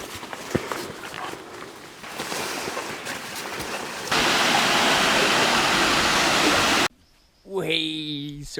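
Small stream of running water found at the foot of a mountain in Madagascar, a steady broadband rush that grows louder midway, with footsteps and a brief pause before a voice speaks near the end.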